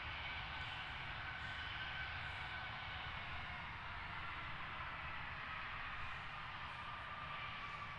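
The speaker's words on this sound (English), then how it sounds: "Off to Malaga for this BA A321-200." British Airways Airbus A321-200 departing London Gatwick, a distant steady jet roar with a faint whine holding at even loudness throughout.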